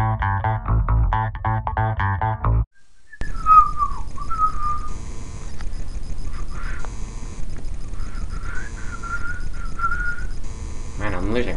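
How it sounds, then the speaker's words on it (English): A person whistles a wavering melodic tune, clear and close, after a short burst of cartoonish sounds and a brief pause. "Man, I'm losing my whistle."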